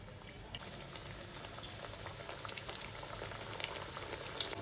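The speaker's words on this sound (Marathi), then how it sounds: "हे पहा तेल छान गरम झाले। आता आपण एक एक करंजी सोडूया।" Karanji pastries fry in hot oil, giving a continuous soft bubbling sizzle with occasional brighter pops, steady and fairly quiet at close range, with no talking.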